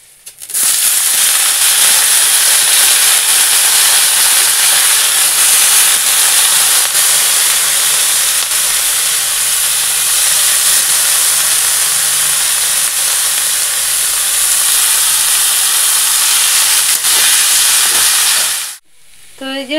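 Bharali fish frying in a pan with a loud, steady sizzle and hiss of steam that runs unbroken for nearly the whole stretch, then cuts off abruptly at the end.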